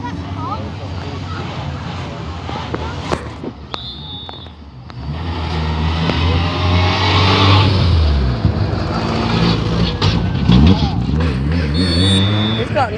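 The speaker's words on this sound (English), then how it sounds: "He hasn't got a very good exhaust, that one, does he?" Rally car with a poor exhaust, its engine revving and rumbling loudly nearby as it accelerates past, with spectators talking over it.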